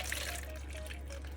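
Coffee is poured into a container holding a phone case, a brief, quiet liquid trickle over a low steady hum, with no talk.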